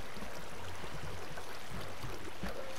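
Waterfall in a video game with skeletons and dungeons: a faint, steady rush of falling water runs throughout, with a brief louder burst at the very end and no talking.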